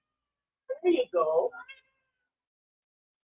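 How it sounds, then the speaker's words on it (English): A pet cat named Solstice meows loudly and close up, two drawn-out meows in quick succession. Someone speaks briefly just after. "That's the cat."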